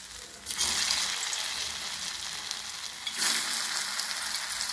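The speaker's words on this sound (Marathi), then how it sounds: "तेल आपलं गरम झालेलं आहे चांगलं. आपण त्याच्यात वडी टाकून घेऊया." Coriander vadi pieces frying in hot oil give a steady, loud sizzle throughout, with a brighter burst at the start as they go in and another surge partway through as they are stirred or turned. No voices are present.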